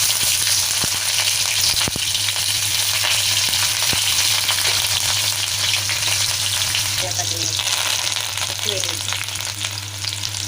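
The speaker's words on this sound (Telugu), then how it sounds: "ఇంకా వేడి అయింది, జీలకర్ర వేస్తున్నాను." Cumin seeds and green chillies fry in hot oil with a loud, continuous sizzle that stays steady throughout, broken by a few light stirring clicks close at hand.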